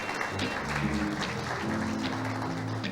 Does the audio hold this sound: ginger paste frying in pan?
no